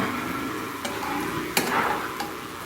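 Mustard oil sizzling steadily in a pan after more oil is added, with a few faint clicks and light stirring taps over the constant hiss.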